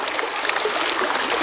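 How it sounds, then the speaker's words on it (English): Dirty water draining and flowing out of a pipe at a winter chicken setup, a steady close splashing and trickling rush with no talk. "Water coming out."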